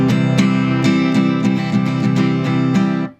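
Acoustic guitar chords strummed and allowed to ring out long, a steady series of full strums about every half second with sustained, overlapping tone, close and loud before dying away.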